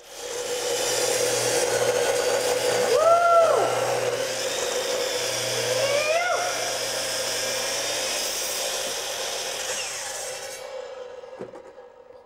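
Makita 12-inch slide compound saw cutting, a sustained close whine and rasping cut lasting most of the stretch with a couple of rising pitch sweeps, fading out near the end.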